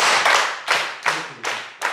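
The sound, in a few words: congregation clapping in unison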